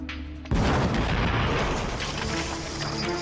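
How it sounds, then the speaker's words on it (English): A replica medieval bombard cannon, modelled on Urban's bombards from the siege of Constantinople, fires in a quarry with one sudden loud boom after a brief quiet, followed by a long rumbling, crackling decay. "Again, the explosion rocks the quarry."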